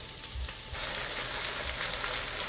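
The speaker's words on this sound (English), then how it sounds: "I'm just going to saute these onions up so they get nice and tender" Onions sauté in a hot pan for baked spaghetti, giving a steady close sizzle and crackle that fills the whole stretch with no voices.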